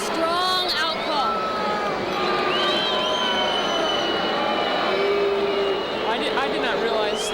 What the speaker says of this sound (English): The crowd doesn't agree with it